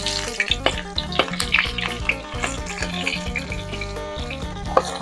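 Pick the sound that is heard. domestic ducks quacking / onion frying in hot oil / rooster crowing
onion frying in hot oil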